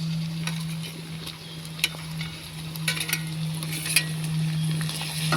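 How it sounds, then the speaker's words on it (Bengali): Onions frying with ginger, garlic and chili pastes in a pan for a prawn curry with potato and pointed gourd, a steady soft sizzle with occasional light stirring scrapes and clinks, close and continuous with no talking. "কিছুক্ষণ পেঁয়াজের সঙ্গে ভেজে নেব"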